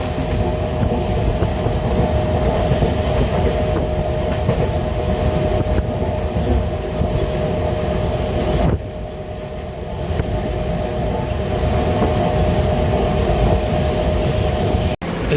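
A MEMU local train runs at speed between Ghatkesar and Bibinagar stations, its steady loud rolling rumble and wheel clatter filling the whole stretch, briefly dipping midway before resuming, with no voices.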